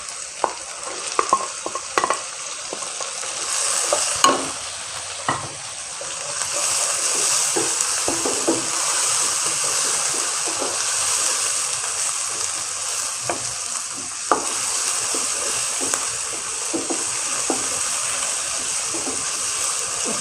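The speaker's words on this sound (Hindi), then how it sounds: "अच्छा सा भून लें" Tomatoes and spices fry in a pan while being stirred, giving a continuous close sizzle broken by scraping and clinking strokes.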